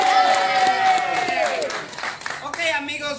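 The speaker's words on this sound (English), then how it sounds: "I want to hear a bigger applause for your tour guide." A cruise-excursion tour group in Mexico claps for their guide, a dense wash of applause with a few cheers, mixed with voices talking over it.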